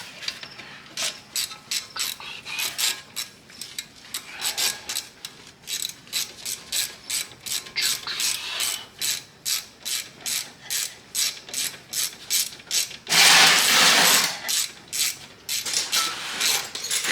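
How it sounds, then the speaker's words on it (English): Ratchet clicking steadily while tightening the caliper slide pin bolts on a Nissan Altima race car, dense rapid ratcheting bursts repeating close up for most of the stretch, with one louder sustained rasp near the end. "And then we just gotta tighten up these little guys. The old caliper slide pin bolts."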